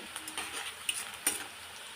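Soft sizzling of onion and garlic paste with turmeric frying in a pan, with a few light clicks and taps over the steady hiss.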